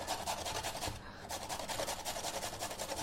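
A small organic carrot, skin on, is grated by hand in rapid rhythmic strokes, a dry rasping scrape repeating evenly with a brief pause near the start.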